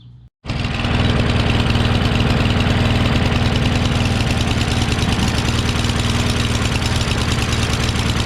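A Craftsman push mower mulcher with a Briggs 550EX engine, running rough, roars to life after a brief pause and keeps a loud, steady, slightly uneven drone up close.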